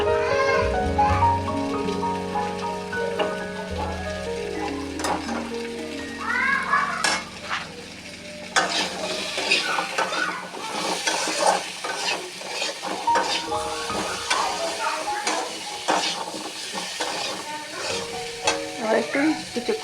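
Chunks of elephant yam fry in spiced oil in a pan for a vegetarian curry, sizzling steadily while a spoon stirs and scrapes repeatedly against the metal, close and continuous throughout.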